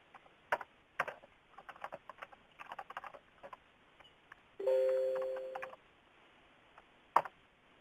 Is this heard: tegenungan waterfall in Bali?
no